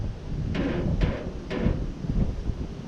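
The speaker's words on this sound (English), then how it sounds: "It is kind of windy out." Wind buffets a microphone outdoors during vehicle transport work, a steady low rumble with a few sharp knocks or thumps spaced about half a second apart; no one speaks.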